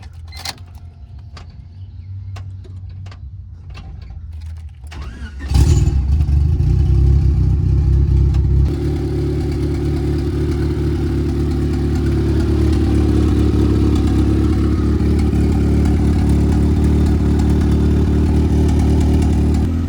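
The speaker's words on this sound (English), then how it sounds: "Gonna let it idle for like 10-15 minutes before I apply any type of throttle" Clicks and rattling, then a turbocharged Honda Civic engine cranks and catches with a loud burst, settling into a steady, rumbling idle that continues up close.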